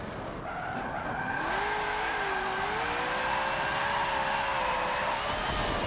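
Tires screech through a long, wavering skid as a car slides and rolls in Forza Motorsport 7, with a steady engine drone underneath; the sliding squeal is loud and continuous, bending up and down in pitch for several seconds.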